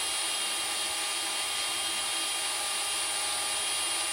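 High-pitched whirring of a small, thin drill bit drilling out a rivet on a vintage Honda Z50 VIN plate runs continuously at close range, steady and unbroken, with no talking.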